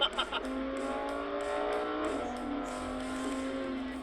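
A Lamborghini sports car drives along with a steady, loud engine drone from inside the cabin, its pitch holding and shifting slightly as it runs, with a few brief knocks at the start and no clear talk.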